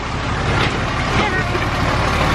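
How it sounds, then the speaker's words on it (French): A heavy truck rumbles past at close range near a border crossing on a road toward China, a steady broadband roar over about two seconds. "Chauffeur routier là qui passe avec son camion."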